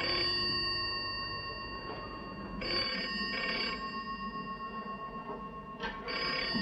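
A telephone rings with a bright, repeated electronic trill in bursts, loud and close, continuing over a low background hum with no talking.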